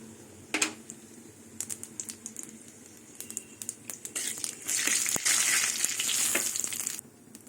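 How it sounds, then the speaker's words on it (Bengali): Radhuni, dried chilli and bay leaf drop into hot oil, setting off a sharp, crackling fry that swells to a dense, loud sizzle in the second half. Scattered clicks and spatters come first, and no one speaks. "রাঁধুনি শুকনো লঙ্কা তেজপাতা দিয়ে দেবো"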